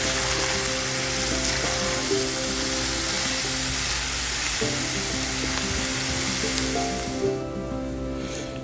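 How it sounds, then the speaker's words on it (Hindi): Chopped green bell pepper frying in a pan for a chicken bread filling, a loud steady sizzle with some stirring, close, with a hum running underneath and no talk. "उसको अच्छी तरह से जो है फ्राई करेंगे"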